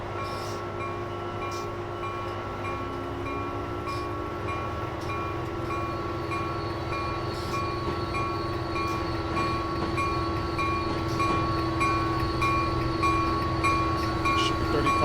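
An Acela Express high-speed train departs in the Train Sim Classic video game, a steady loud hum and rumble of rail running with sustained tonal whines, one tone sliding upward as it pulls away.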